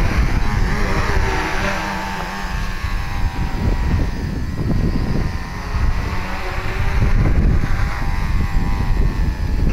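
A scratch-built tricopter flies outdoors in the wind, its motors giving a continuous buzzing whine that rises and falls with throttle, mixed with gusty wind rumble on the microphone.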